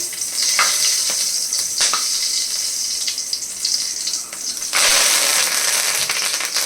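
Whole spices such as cardamom, cloves and cinnamon frying in hot oil for South Indian pepper chicken, giving a loud, steady sizzle with crackling bursts and a sharp swell of hissing partway through; no talking.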